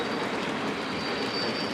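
Model toy train engines running on a layout track through a mountain section, giving a steady close whirring rumble with a thin high whine that carries on without a break and with no talking.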